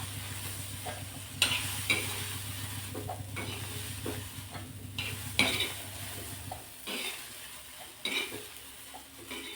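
Green peas and green chilies roast in a pan for a matar bhaji, with a low sizzle under repeated sharp scraping strokes of a spatula against the metal, several distinct stirs close by.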